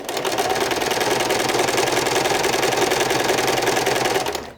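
A sewing machine stitches hand-woven fabric in one continuous, fast mechanical rattle at close range, running steadily for several seconds before stopping abruptly.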